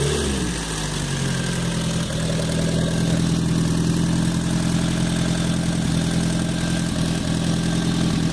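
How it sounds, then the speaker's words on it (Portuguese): A carburetted engine idles steadily on a hydrogen and fuel mixture, with hydrogen piped in at the carburettor base; a continuous, even low rumble with a faint rattle runs close and unbroken throughout. "O motor está funcionando com uma mistura de hidrogênio e combustível."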